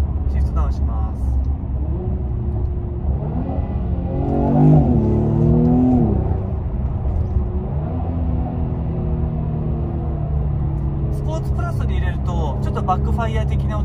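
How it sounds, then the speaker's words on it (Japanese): A Mercedes-AMG E43 4MATIC station wagon's engine revs up and falls back on a downshift, a loud, continuous rumble with rising and falling pitch and faint crackling pops, with someone speaking over it. "バックファイア的な音も聞かせてくれるので楽しいですね。"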